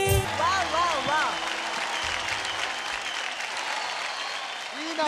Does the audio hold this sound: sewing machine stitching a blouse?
no